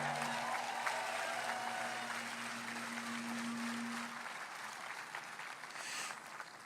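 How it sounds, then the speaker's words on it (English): A Trump campaign rally crowd in Pennsylvania applauds, a broad, fairly distant wash of clapping with a steady tone and faint voices underneath, fading slightly toward the end. "Please give yourself a big round of applause."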